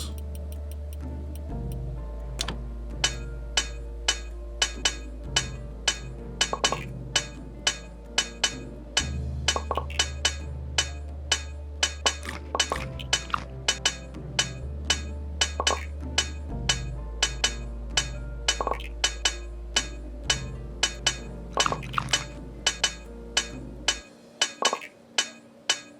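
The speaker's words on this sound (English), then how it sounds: "this is a lot of hammering" Metallic hammer strikes ring out over and over as iron parts are forged in Graveyard Keeper, sharp clinking blows at a brisk, slightly uneven pace across nearly half a minute, set over low steady background music.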